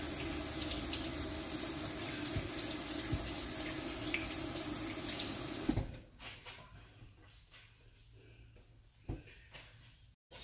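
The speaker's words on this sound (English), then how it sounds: "Rinse this real quick." A kitchen tap runs water steadily while something is rinsed for a pumpkin lasagna, close and fairly loud, then shuts off about halfway through, leaving faint handling clatter.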